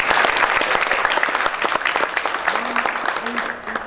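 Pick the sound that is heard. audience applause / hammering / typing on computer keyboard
audience applause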